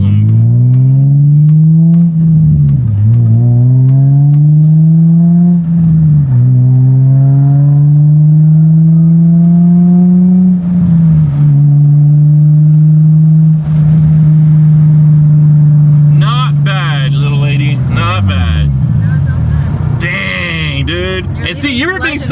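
A Nissan G35 fitted with a Flashark racing exhaust revs repeatedly, its loud, close exhaust note rising and falling through several long pulls that end in a sharper, raspier burst.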